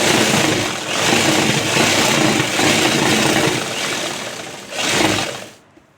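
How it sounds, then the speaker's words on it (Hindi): A sewing machine stitching salwar fabric runs in a steady, dense mechanical whir for about five seconds, swells briefly near the end, then stops abruptly. "पहले सिलाई मारूंगी इसका।"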